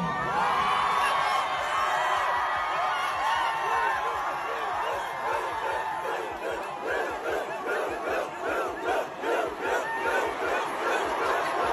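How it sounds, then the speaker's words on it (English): A huge concert crowd of nearly 70,000 at a Paris show roars and cheers for Blue Ivy after her dance, a dense wall of shouting voices with rhythmic chanting pulses growing toward the end. "share a video of the crowd cheering for Blue following her dance performance"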